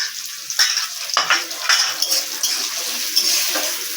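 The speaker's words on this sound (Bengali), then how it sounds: "পেঁয়াজটাকে হালকা করে ভাজা হয়, উপরে শুকনো লঙ্কা কাঁচা লঙ্কাটাও দিয়ে দিলাম" Chopped onion fries lightly with dried and green chillies in a pan, giving a bright steady sizzle broken by a few scraping stirs and clinks of a utensil, close and fairly loud with no voices.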